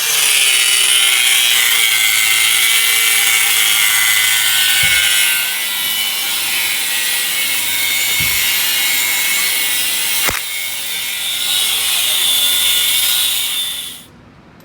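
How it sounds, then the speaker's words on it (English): A loud, continuous high-pitched whine of a drill bit grinding into aluminum in a race car shop, running steadily for over ten seconds with a few brief knocks before cutting off. "I don't know if those drill bits cut aluminum that well."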